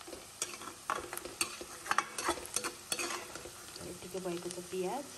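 Onions frying with turmeric and Kashmiri chili powder for a fish curry, stirred with a spoon: a soft sizzle beneath a run of scraping, clattering strokes against the pan, with a few louder knocks at irregular intervals.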